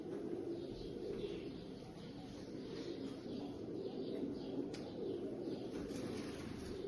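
Pigeons at a pigeon club coo softly in a faint, low murmur against quiet outdoor ambience, with an occasional light flutter.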